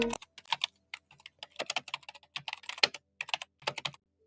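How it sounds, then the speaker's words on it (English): Rapid, light clicks of computer keys being typed in quick irregular bursts, close and crisp, with short pauses between runs. "keyboard clicking,"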